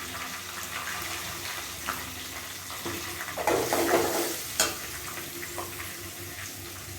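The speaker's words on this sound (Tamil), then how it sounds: "அந்த இஞ்சி நல்லா பொரியணும்." Grated ginger and asafoetida fry in hot oil for moor kali, giving a steady, close sizzle with a few brief louder crackles and no talking.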